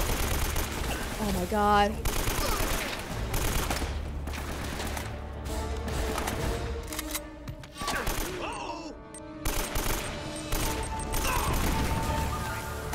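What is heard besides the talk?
gunfire from video game Uncharted: Drake's Fortune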